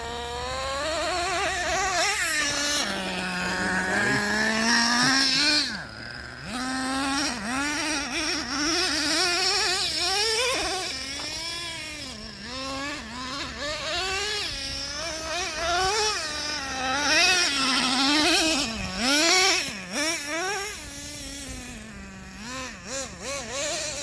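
A Traxxas Revo 3.3 nitro RC truck engine runs loud and buzzy close by, its pitch rising and falling in repeated revs with brief dips, like a small two-stroke being throttled up and down.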